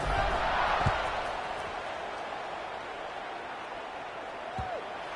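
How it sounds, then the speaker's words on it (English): Stadium crowd at a Southern Miss college football game, a broad steady roar that swells at the start and then holds as a constant buzz, with a couple of brief thumps and no clear talk over it. "this crowd is buzzing after that last score"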